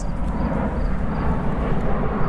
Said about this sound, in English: the airplane is flying overhead